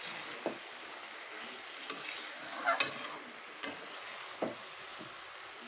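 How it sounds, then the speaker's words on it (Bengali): A spice mixture is stirred into broad bean vegetables in a pan, with a soft sizzle underneath and repeated scraping clinks of a spoon against the metal at an uneven pace, close and alone. "তো চলো ভালোভাবে আমি এটাকে মশলাটাকে মিক্সড করে নিই সবজির সাথে"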